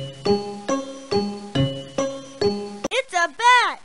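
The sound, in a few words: bat call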